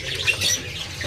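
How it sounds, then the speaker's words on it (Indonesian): Orange-headed thrush (anis merah) in a cage at Pramuka bird market, Jakarta, giving brief high chirps and squawks over a constant market background, close and fairly loud in a short burst. "Ini ada burung anis merah macetan ya"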